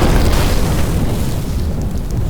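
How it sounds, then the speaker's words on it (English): A deep, loud rumbling explosion rocking the Vulcan, a sustained low roar that stays heavy throughout and eases off only slightly toward the end. "final explosion rocks the Vulcan"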